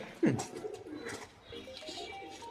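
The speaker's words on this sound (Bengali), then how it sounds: "এই যে কবুতরও আছে, ঘুঘু পাখিও আছে।" A soft pigeon coo stands out near the start, followed by fainter cooing from doves and pigeons and quiet bird murmurs at low volume.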